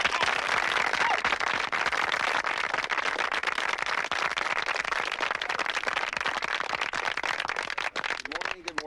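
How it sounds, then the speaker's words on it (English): Sustained applause from an audience honoring baseball Hall of Fame pitcher Phil Niekro at a girls' baseball tryout event, dense steady clapping across the whole stretch, fading slightly at the very end. "Please get a big round of applause for Mr."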